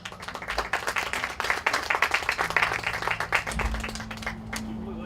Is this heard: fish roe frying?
no